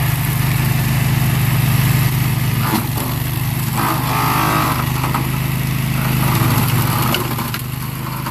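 A spider mower doing slope care runs its engine loud and close while cutting down small Georgia pine about six feet high and an inch thick, a continuous droning roar with slight surges as it chews through the growth.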